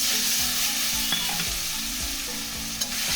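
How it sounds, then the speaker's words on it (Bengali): Chopped tomatoes going into a pan of sizzling oil while making bhindi masala, a loud continuous frying hiss with a few soft stirring knocks and scrapes, no talk. "এবার আমি এর মধ্যে দিয়ে দেবো কেটে রাখা টমেটো"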